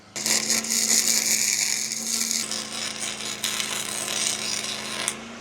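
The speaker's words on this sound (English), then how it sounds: "Now let's weld her out." An ArcCaptain MIG 200 welder lays a bead on a dump trailer jack, giving a steady loud crackling buzz with a sustained hum that fades a little and sputters near the end.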